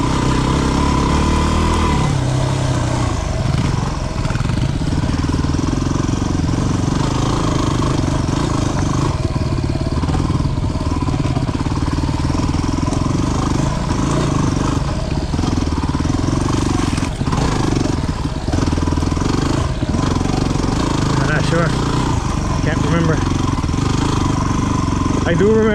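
Dual sport motorcycle engine, a 250 cc trail bike such as a Yamaha WR250R or Honda CRF250L, running loud and steady on a trail ride with throttle changes throughout, alongside wind and rider noise.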